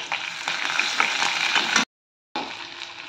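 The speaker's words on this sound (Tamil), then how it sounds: "ஒரு பெரிய வெங்காயம் நீளமா கட் பண்ணது, ஒரு பச்சை மிளகாய் வதக்கிக்கலாம்." Curry leaves, cumin, sliced onion and green chili sauté in a hot pan with a dense, steady crackling sizzle, broken by a brief silent gap before it resumes.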